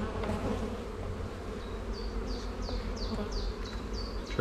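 A thriving honeybee colony hums loudly and continuously in an opened hive, close up, with individual bees whining past as they fly near.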